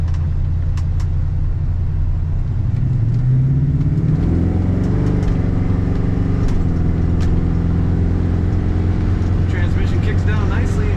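A 1953 Ford F100 pickup drives along with a steady low engine drone, the pitch rising as it accelerates and shifting as the transmission changes gear, heard from inside the cab with a voice talking over it.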